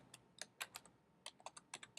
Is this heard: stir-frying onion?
no